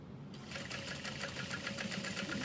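A sewing machine stitches a leather bag handle at a 4.5 stitch length, its needle running in a fast, even mechanical chatter that starts after a brief pause and continues steadily.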